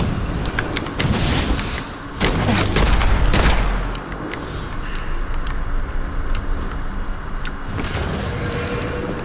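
Shotgun blasts and gunfire in the first-person shooter Witchfire, several loud booming shots in quick bursts, with a heavier cluster of heavy blasts in the middle and sharp sporadic reports continuing through the rest.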